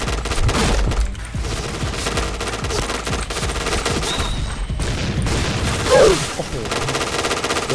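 A zombie shooting video game produces loud, rapid automatic gunfire. The bursts run almost continuously, with occasional heavier hits and faint voices in the background.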